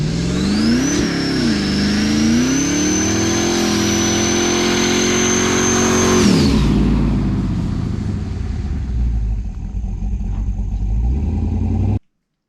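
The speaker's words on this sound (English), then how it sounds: "here's a burnout." Twin-turbo Dodge Dakota RT doing a burnout, a loud, sustained engine roar held at high revs for about six seconds, then dropping into a rough idle and tire-hiss rumble before cutting off abruptly.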